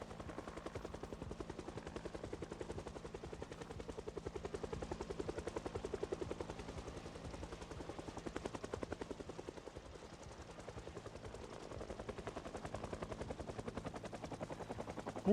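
Helicopter in a video game flying overhead, a steady rapid rotor chop thumping continuously and alone, swelling slightly then easing as it passes.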